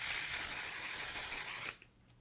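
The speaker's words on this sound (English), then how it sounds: "So I'm gonna take my setting spray" Setting spray is misted onto the face in one continuous close hiss lasting under two seconds, then cutting off abruptly.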